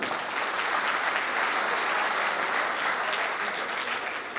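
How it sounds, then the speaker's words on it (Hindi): Dense, sustained applause from a crowd at a school alumni meet, loud and steady throughout with no pause. "तालियां बजा दो।"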